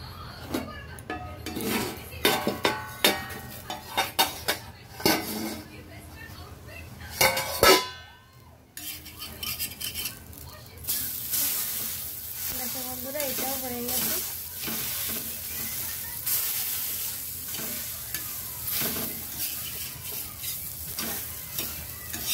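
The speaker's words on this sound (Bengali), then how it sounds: "এরপর এগুলো আমি একটু ভালো করে সেকে নেব" Chopped ingredients for a homemade burger frying in oil in a pan: an ongoing sizzle with utensil scrapes and clinks against the pan, close but fairly soft, rising to a brighter, louder hiss later on.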